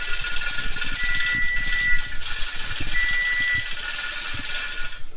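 A pressure cooker canning ground sausage gives off a loud, steady steam hiss that runs unbroken through the whole stretch, with a faint low rattling rumble beneath it.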